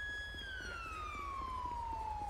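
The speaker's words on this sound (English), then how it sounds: "We'll get the siren off real quick." A police car siren in the video game LSPDFR wails steadily, its pitch sliding slowly downward, over a low rumbling engine-like hum.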